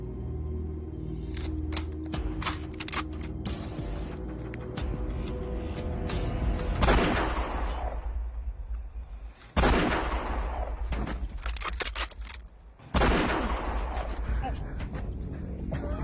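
Sharp bursts of gunfire in a war-movie battle scene: scattered rapid shots early on, then several loud, near blasts with decaying rumbles, over continuous background noise.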